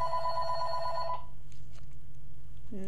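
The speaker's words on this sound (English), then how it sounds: "the phone is ringing" A telephone rings with a steady electronic trill for about a second, then cuts off and leaves a quiet, humming room.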